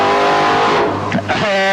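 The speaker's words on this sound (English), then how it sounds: "burnout from the Blown Limousine" Supercharged Chevrolet-engined Holden Statesman limousine with Buick heads doing a burnout at a drag meeting, a loud close engine roar with tire squeal that shifts pitch midway, with a commentator talking over it.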